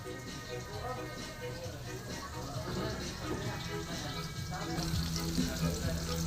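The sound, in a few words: sautéing onion and garlic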